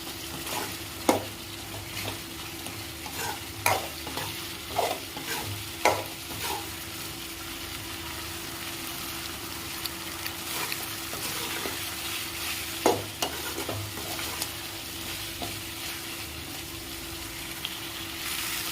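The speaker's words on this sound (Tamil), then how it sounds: "பெப்பர் போட்டு வணக்கி விடுங்க. நல்லா அந்த குழம்புலாம் சுண்டி வரட்டும்." Pepper chicken stir-fried as its gravy reduces, with a continuous sizzle and a rhythmic run of spatula scrapes and knocks against the pan, the strokes spacing out partway through.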